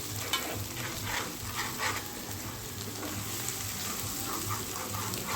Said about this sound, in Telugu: ఇప్పుడు దంచి పెట్టుకున్న ఫ్రెష్ అల్లం వెల్లుల్లిపాయని వేసేద్దాం